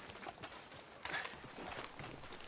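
Horse hooves clip-clop along a street in the Red Dead Redemption II video game, a steady walking rhythm at moderate distance mixed with faint background town noise.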